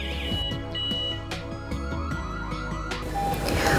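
An indoor RF alarm system siren, part of a WiFi and GSM smart security system, sounds while it pairs with the control panel. It gives a loud, close series of repeated electronic beeping and wailing tones that carry on without pause.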